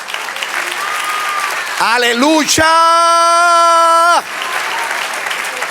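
Church congregation applauding during a sermon, a steady wash of clapping throughout, with a voice rising into a long sustained shout over the middle.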